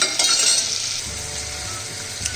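Onions frying in a pan with ginger-garlic paste for restaurant-style dal makhani, a close, steady sizzle with a burst of stirring at the start.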